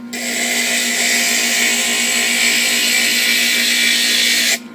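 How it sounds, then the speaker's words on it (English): Steady, loud whine of a power grinder smoothing the sharp edge of a cut glass piece for a pattern, one continuous pass of about four and a half seconds that cuts off abruptly, with no talking. "So we want to grind it just to make it not sharp."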